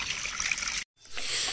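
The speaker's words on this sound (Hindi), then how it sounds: "तो हम पानी वगैरह ले आए हैं अपने चिकन्स के लिए" Water poured out for chickens and exotic birds on a bird farm: a close, steady trickle and splash that stops abruptly partway through, then resumes after a brief silence.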